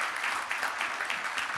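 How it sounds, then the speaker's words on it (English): An audience at a Health 2.0 conference panel applauds the panelists, a short burst of dense, steady clapping from a crowd. "Round of applause, a great panelist."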